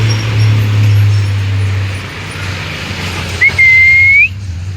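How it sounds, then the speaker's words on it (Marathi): Vehicle traffic on a main road, a steady low rumble of passing cars with a brief, loud, high horn-like whistle near the end. "गाड्यांचा आवाज मेन रोडला असल्यामुळे ना गाड्यांचा आवाज खूप येतो"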